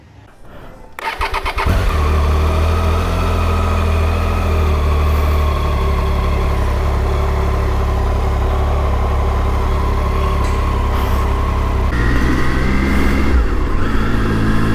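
A motorcycle fitted with a helmet-mounted action camera starts up after a moment of quiet, then its engine runs continuously with a steady, close, loud drone during a short ride, with a slight surge near the end.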